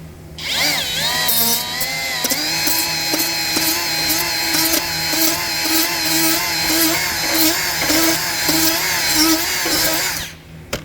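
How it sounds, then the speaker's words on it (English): Ryobi die grinder with a 180-grit twist-lock disc grinding rough damage off a conveyor: a loud, high-pitched whine that starts up, holds steady with repeated short bites and scrapes against metal, then spins down at the end. "So we're going to die grind that off."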